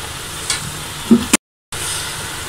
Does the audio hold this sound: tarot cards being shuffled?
no